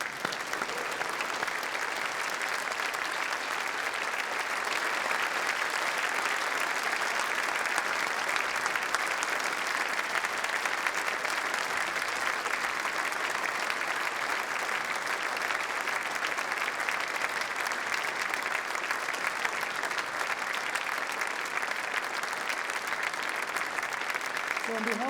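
Sustained applause from a standing audience at a University of Manchester graduation ceremony in July 2019, a dense, even roar of many hands clapping that continues steadily for about twenty-five seconds without a break.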